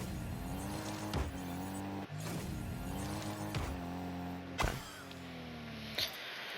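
A car in a car-soccer video game drives, turns and drifts, its engine droning with rising and falling pitch while several sharp impacts and bursts punctuate the steady, close motor sound.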